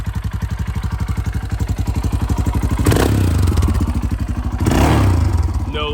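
A Royal Enfield Himalayan fitted with a Delkevic header pipe idles with a loud, close, steady thumping beat, running rich, with two brief surges of revving partway through.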